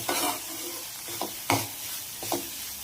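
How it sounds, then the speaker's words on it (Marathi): Dried fish (sukat) sautéed with tomato and onion in a pan, with a soft sizzle under a few distinct stirring scrapes spaced out over a couple of seconds, close and fairly quiet. "1-2 मिनिटं मी ह्याच्यामध्ये छान परतून घेते टोमॅटोमध्ये आणि कांद्यामध्ये"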